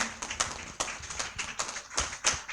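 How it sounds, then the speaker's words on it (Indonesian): A small group claps hands at an indoor church retreat session, uneven individual claps that rise and fall briefly and fairly close. "Tepuk tangan teman-teman."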